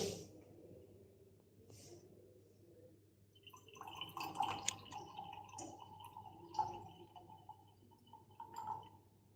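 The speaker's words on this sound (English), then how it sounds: "So now I'll pour it up like this." Wine poured from a decanter into a glass during a wine service workshop, with soft trickling and faint drips and clinks close by in a quiet room, no talk.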